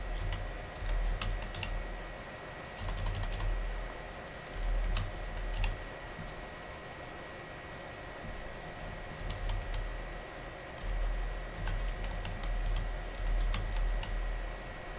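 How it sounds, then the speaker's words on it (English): A website name and URL are typed on a computer keyboard as a browser feature is set up, giving a steady stream of close, quick key clicks over a constant low hum, with no talking. "you can type it here, the name and the URL"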